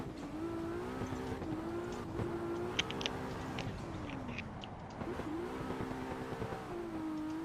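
Cars drive in a racing video game, with steady engine drone rising and falling through gear changes, faint tire squeals and small clicks, all at a low, even level.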